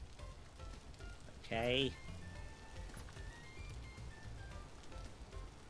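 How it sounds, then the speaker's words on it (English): Steady rain falls in the video game Vintage Story, a soft, continuous hiss of drops on surfaces throughout, with a voice speaking briefly over it. "Plus, it's raining."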